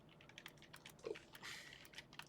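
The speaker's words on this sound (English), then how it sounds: "I'm typing in something right quick." Someone typing quickly on a keyboard, a faint, close patter of light key taps in short uneven bursts with a slightly louder cluster midway.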